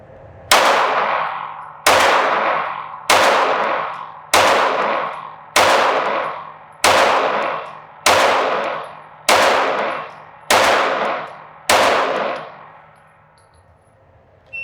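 Ten pistol shots fired one at a time at a range target, loud sharp cracks spaced about a second and a quarter apart, each ringing off briefly, with no talk between them.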